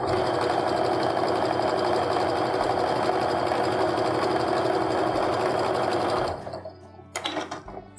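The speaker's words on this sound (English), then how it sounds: "So I'm just going to go ahead and line up my corners and sew like I normally would." A sewing machine runs at a steady fast whir, stitching quilt pieces with a 1/4 inch seam, loud and close, then stops abruptly near the end, leaving a few faint handling noises.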